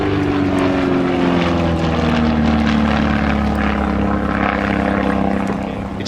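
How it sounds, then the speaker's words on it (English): A four-seat propeller aeroplane with wingtip fuel tanks drones loudly and steadily overhead at an airshow, its engine tone sliding slightly lower as it passes over about six seconds. "it's an extremely practical, as well as very attractive and rapid aeroplane"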